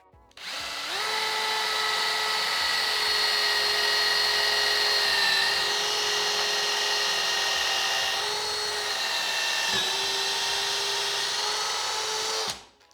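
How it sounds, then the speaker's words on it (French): A power drill bores diagonally through a wooden lamp body to make a cable channel, whining loudly and steadily with slight pitch dips as the bit bites, then spinning down. "Je vais percer en diagonale pour avoir une entrée et une sortie de câble."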